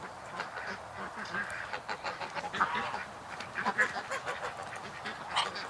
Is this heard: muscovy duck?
yes